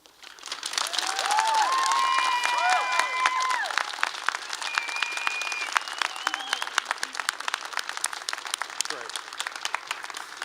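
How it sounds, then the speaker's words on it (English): A large commencement audience at a medical school graduation ceremony applauds families of the graduates, a dense sustained wash of clapping swelling in the first seconds and holding steady, with faint murmured voices underneath. "I think it's fitting if you take a second and applaud them"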